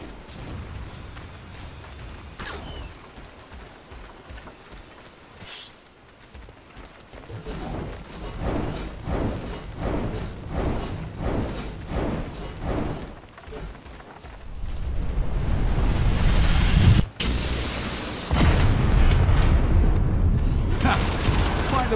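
Explosions and cannon fire in the Gangs of Sherwood action video game, heavy booms and blasts building over a run of rhythmic impacts into a dense, loud barrage with a sharp crack near the end, mixed with battle noise.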